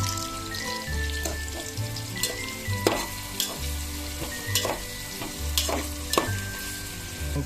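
Onions and green chilies frying in butter and oil, a steady close sizzle broken by sharp stirring scrapes and clatters throughout, with no talk.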